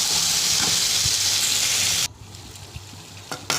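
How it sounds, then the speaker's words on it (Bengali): Chicken skin sizzles and fries loudly in a pan over low heat for about two seconds, then the frying drops off sharply to a faint crackle with a few light stirring knocks. "যত কষানি হবে তত এটা খেতে কিন্তু টেস্ট হবে আমি ভালোভাবে কষিয়ে নেব"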